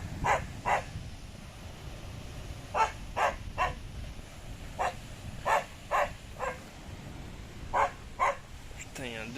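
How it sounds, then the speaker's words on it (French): A dog on a beach in Thailand barks repeatedly in short bursts and pairs, fairly near, over steady wind and surf noise. "quand il aboie, ça se trouve, c'est juste pour me dire bonjour"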